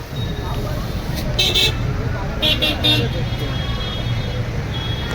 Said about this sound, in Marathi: हे बघा किती ट्रॅफिक लागलेले आहे जाम आहे सर्व